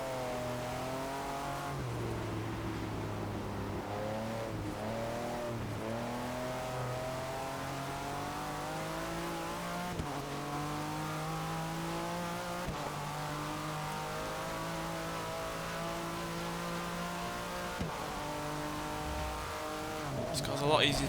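A Porsche Le Mans race car in Forza 6 drives with a sustained engine whine that climbs and drops through gear shifts, steady and prominent, with a voice talking over it.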